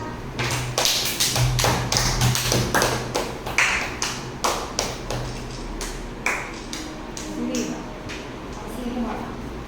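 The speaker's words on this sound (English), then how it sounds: "Please give him a clap." Children at a summer camp celebration clap for a classmate receiving a certificate, with sharp, fairly regular claps rising and fading through the room while voices talk underneath.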